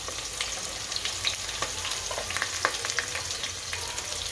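Potato, onion and carrot pieces frying in hot oil in a pan for Gujarati vaghareli rice, a continuous close sizzle with crackles and small pops throughout, no voices.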